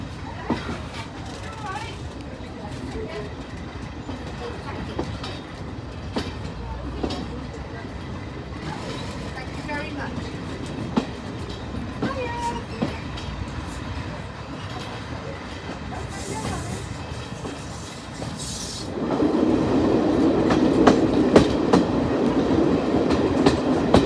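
A diesel train runs on the Swanage Railway during a diesel gala, a steady rolling rumble with clicking wheel beats heard from on board, growing louder toward the end as it gathers pace.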